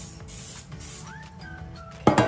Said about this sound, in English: And spray with nonstick spray.